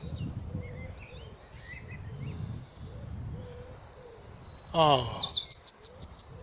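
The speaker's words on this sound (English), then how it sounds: "you hear that beautiful bird?" A songbird outdoors gives a bright burst of rapid chirping trills partway through, over a low rumbling background, and a voice briefly exclaims.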